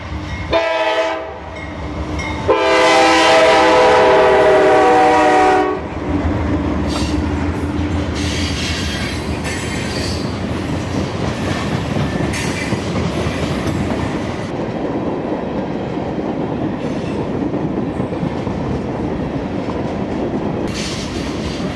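A loud train horn blares, then the heavy rolling clatter of a passing train continues steadily, close by, heard from just outside a window, with rhythmic wheel noise and no talking.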